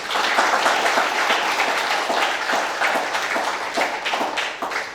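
An audience at a graduation ceremony for seven new bachelor's graduates in religious education claps loudly and continuously, a dense, close round of applause with some sharper individual claps standing out.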